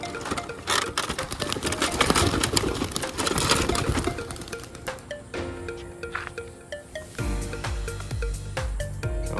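A flock of twelve racing pigeons being released for a race: a dense, continuous flutter of many wingbeats mixed with scattered coos, busy and close throughout.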